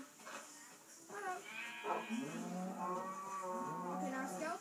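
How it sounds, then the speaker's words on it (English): Several cows mooing in the video game Minecraft Pocket Edition, overlapping drawn-out lowing calls that are close and fairly loud, following one another with few pauses. "Quiet, cows!"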